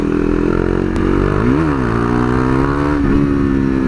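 A KTM 390 Duke motorcycle with an Akrapovic slip-on exhaust rides along, its engine droning loud and close, rising in a brief rev before settling back into a steady, continuous exhaust note.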